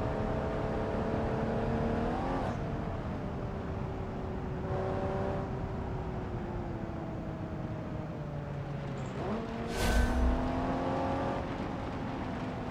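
A race car's engine in BeamNG.drive on a rocky, difficult track hums steadily and loud, its pitch rising and falling with gear shifts and throttle changes, with a brief sharp burst near the end.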